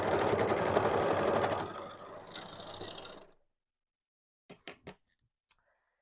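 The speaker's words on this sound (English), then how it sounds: "we can start that and sew all the way around" Sewing machine stitching around the foot piece of a fabric coverall, a fast steady whirring run for about three seconds that slows and stops, followed by a few isolated mechanical clicks, close up.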